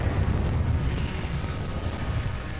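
Incendio fire spell cast in a wizarding video game, a loud sustained roaring whoosh with heavy low rumble, steady and dense throughout without a break.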